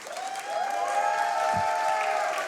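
Live audience at a gaming marathon event bursts into loud, sustained applause and cheering, a dense wash of clapping and shouts from a large crowd close by, with one brief low thump partway through.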